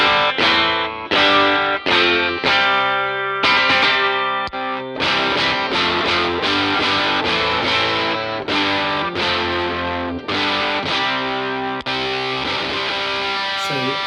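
Electric guitar played through a Fuzz Face fuzz pedal split in half into a two-sided fuzz, heard as a steady, loud, sustained distorted tone with repeated strummed chords and short breaks, alone without talk.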